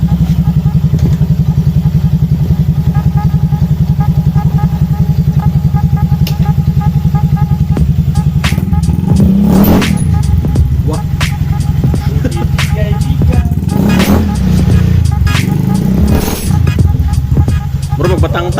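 A Honda Beat Fi scooter engine with a newly fitted Sun Racing pulley set runs loud and close, with a steady idle that swells into a couple of revs amid rattling.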